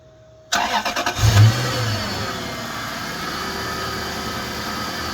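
A Toyota UCF30 with a 3UZ V8 and six-speed automatic, its starter relay bypassed with a piece of wire, cranks in a few quick loud pulses, catches, revs briefly and then drops to a steady close idle.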